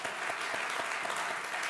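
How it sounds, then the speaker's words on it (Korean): A congregation at a Sunday church worship service bursts into applause, a dense, steady clapping that fills the room without pause and with no voices over it. "자, 우리 박수"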